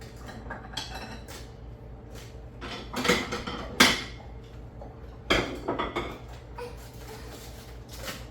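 Zuppa Toscana soup is ladled out of a pot, giving a few scattered metallic clanks and scrapes of the ladle against the pot, with some louder knocks near the middle, over a low steady background hum.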